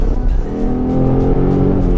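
A 3.7 V6 Mustang exhaust fitted with Hi Flo cats and a Mac Flo Path rumbles in a deep, steady drone. The tone is loud, close and held at a continuous idle-to-light-rev level.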